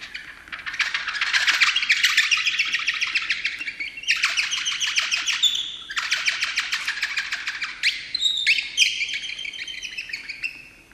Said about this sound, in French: en frottant ou en soufflant dans les pierres, par exemple, on obtenait des chants d'oiseaux